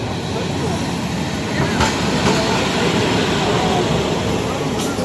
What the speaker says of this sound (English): After the Jewish quarter, we did take a tram back into the city